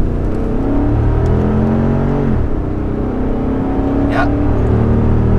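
A Lexus GX 460 engine hums and revs continuously with a throttle response controller set to 100%, the pitch dipping and climbing as the throttle changes, loud and close, with a brief spoken word over it.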